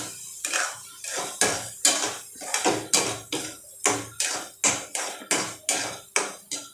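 Masala paste for prawn patties being sautéed in a pan with a spatula, giving a steady, rhythmic run of about a dozen loud, close scraping strokes against the metal.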